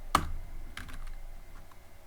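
Typing Python code for a Pong game on a computer keyboard, one sharp key clack followed by a short run of lighter, quicker taps, close up with no voices.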